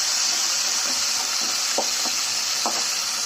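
Mustard seeds, curry leaves, onion and dal fry in hot oil with a dense, even hiss, broken by a few soft stirring taps and pops close by.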